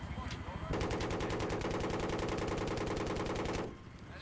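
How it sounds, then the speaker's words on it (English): Anti-aircraft gunfire in a multiplayer military shooter game: a loud, sustained automatic burst of rapid, evenly spaced shots lasting about three seconds, starting abruptly and cutting off, with quieter ambience before and after. "Their AA is shooting us."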